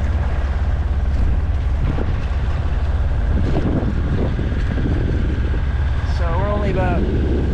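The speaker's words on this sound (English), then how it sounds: "I resorted to motoring because I just wasn't going that fast" A single-handed sailboat motors under engine power along a Michigan lakeshore, its steady drone running throughout beneath heavy wind noise on the microphone, with faint voices or bird-like chirps briefly near the end.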